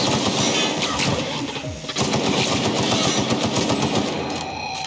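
Rapid automatic gunfire from The Outer Worlds video game rattles in dense, loud bursts, briefly dropping off near the middle before the firing resumes and continues to the end.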